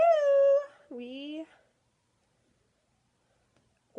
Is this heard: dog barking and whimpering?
yes